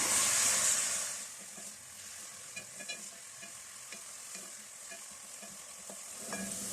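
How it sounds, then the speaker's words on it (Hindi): Onions frying in hot oil while being stirred, a steady sizzle and hiss with scraping stir strokes near the pan, louder at the start then settling into a constant crackle; no one speaks. "सबसे पहले जो प्याज है ये इसमें हल्का सा इसको लाइट गोल्डन कर लेंगे।"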